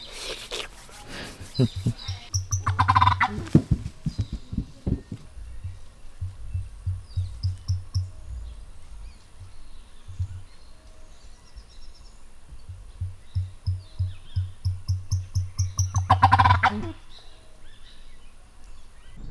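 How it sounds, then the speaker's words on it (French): Rapid low gobbling calls from several ocellated turkeys, bursting in clustered drumming rolls with a louder flurry near the start and end, voices faintly underneath, in a jungle. "il y a plein de dindons"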